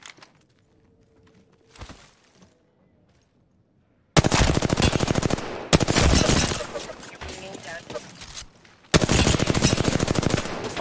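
Loud, close bursts of rapid automatic gunfire from a first-person shooter video game come in three long volleys after a quiet, near-silent opening.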